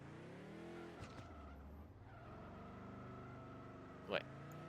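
Video game car drifting in Turbo Dismount, tires skidding and squealing with a whining engine tone, a sharp screech near the end, all under steady talk.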